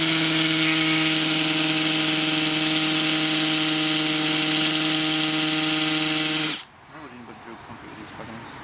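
A loud, sustained whining Makita 40V hammer drill runs steadily for several seconds drilling an 11mm hole in concrete at speed 1, then abruptly stops, leaving quieter background noise.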